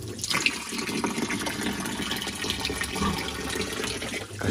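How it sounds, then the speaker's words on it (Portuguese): Water runs steadily into a pig pen's water tank on a small farm, a continuous splashing gush close by that holds at one level throughout, with no voices over it. "A água já tá enchendo aqui, ó."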